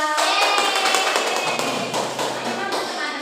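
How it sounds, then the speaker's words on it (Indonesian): Classroom pupils clap for a classmate in a dense burst of hand claps that carries on steadily at moderate loudness for a few seconds. "Tepuk tangan buat Dela."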